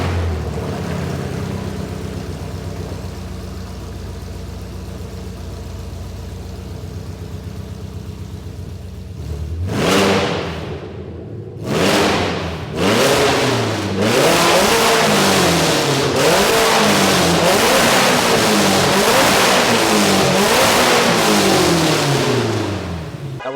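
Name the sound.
Ford Mustang GT350 engine revving on dyno with open headers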